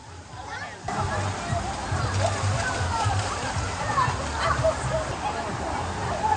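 Waterfall at a beach resort water park in Dubai, a loud steady rush of splashing water that begins abruptly and carries on throughout, with excited voices shouting over it.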